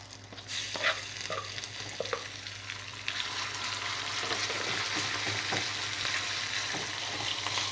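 Ground mint and sesame chutney frying in a hot tempering, a steady close sizzle with occasional stirring scrapes, growing fuller after the first few seconds and running without any voices.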